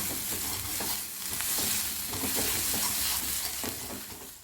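Spices and jeera powder stirred in a frying pan for Bengali rohu fish kalia, a steady scraping stir over continuous loud sizzling, close and alone without talk.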